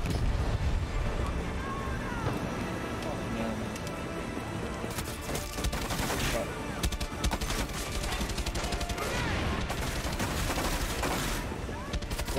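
Far Cry 6 video game gunfire crackles as dense, continuous bursts and scattered shots in a busy battle scene, with voices talking over much of it.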